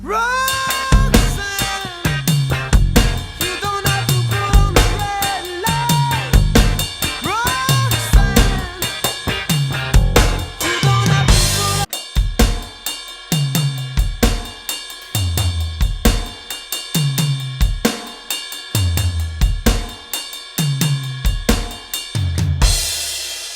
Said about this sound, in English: The next bit of the verse goes to the ride cymbal.